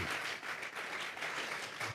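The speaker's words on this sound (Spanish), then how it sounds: "Vamos a regalarle ofrenda de palmas al Dios de la gloria." A church congregation bursts into steady, full applause as an offering of praise, dense clapping sustained throughout at fairly close range.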